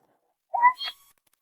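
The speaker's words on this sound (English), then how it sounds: "The call of a little owl, a jerboa's main predator and something worth being nervous about." A single short, rising call from a little owl, sharp and fairly close, followed by a brief higher note, then silence.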